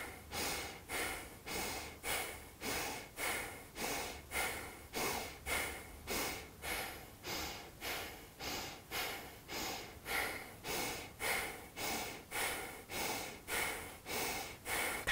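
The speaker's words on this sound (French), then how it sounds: "Respiration dynamique." Quick, forceful rhythmic breaths during a yoga breathing exercise, about two sharp exhalations per second repeating steadily and close, with no talking.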